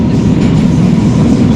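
An old Moscow metro train runs with a loud, steady low rumble and rattle of carriages, continuous and close throughout.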